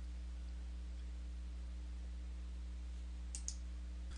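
A computer mouse gives a couple of quick sharp clicks near the end, brief and close over a steady low electrical hum.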